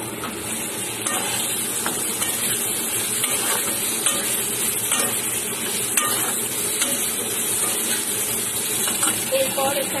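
Potatoes frying in a pan with chilies and tomato going in, a steady hiss of sizzling oil running throughout with occasional light clinks and scrapes of stirring, close and continuous.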